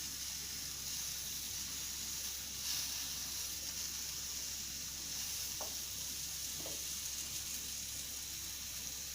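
Pineapple tikka sizzles steadily while frying in a pan, with a soft continuous hiss and occasional scraping stirs of a spoon against the pan, close and unaccompanied by speech.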